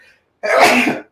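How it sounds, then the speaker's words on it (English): A single sharp sneeze from a radio or stream host, bursting out loudly and close after a brief quiet moment, with no talk over it. "can't believe I'm gonna sneeze on air."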